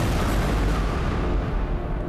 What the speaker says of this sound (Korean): 모조리 폭파시켜버린 베인